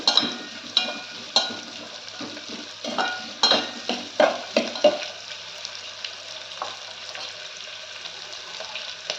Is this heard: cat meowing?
no